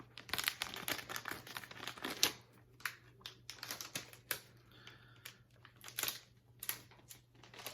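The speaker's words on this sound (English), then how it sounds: "So just tear this top off." Plastic fishing tackle packaging is torn open up close, giving faint, irregular bursts of crinkling, crackling and ripping with short quiet gaps between them.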